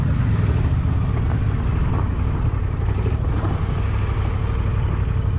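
A 2024 Honda XL750 Transalp motorcycle riding on gravel in gravel mode, with a steady, loud engine drone and rumbling tyres and wind noise filling the whole stretch without a break.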